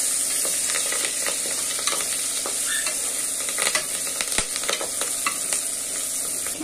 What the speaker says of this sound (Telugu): తలకాయ పుట్ట కూరకి ఇట్లా మసాలా బాగా వేయించుకోవాలా.